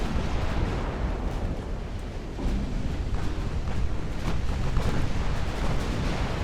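Warship guns firing in the naval battle game Ultimate Admirals: Dreadnoughts make a dense, continuous rumble of booming salvos, with sharper blasts breaking through and heavy, close-sounding explosions throughout.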